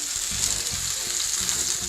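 Peppers charring in a pan for salsa give a loud, steady, close sizzle and crackle throughout, with no talking.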